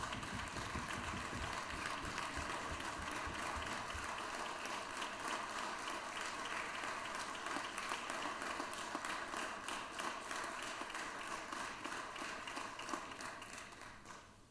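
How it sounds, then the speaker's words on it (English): A round of applause in a state legislative chamber during session, sustained dense clapping from many hands at a steady level, fading slightly near the end. "Let's give the Senator of the 19th a round of applause for all the hard work that he's doing right there."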